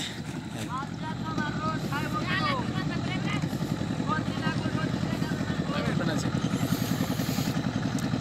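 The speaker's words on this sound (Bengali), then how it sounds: "এই যে আমাদের নৌকা চলে আসছে" Motorboat engine on a river, the boat drawing toward the bank, with a steady droning throb running throughout at moderate loudness while people talk over it.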